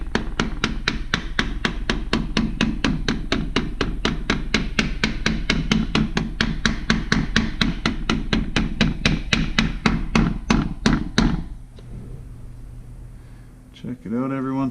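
A hammer drives a small-block Ford rear main seal into place through a Fel-Pro seal saver tool, with about forty quick, evenly spaced light taps close up, followed by a pause and brief talking at the end.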